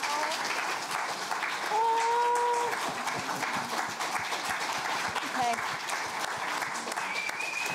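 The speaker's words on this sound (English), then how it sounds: "Could we give a rousing round of applause for the amazing Lisa Guernsey?" Conference audience giving a rousing round of applause for a colleague, continuous clapping with a few whoops and cheers rising above it.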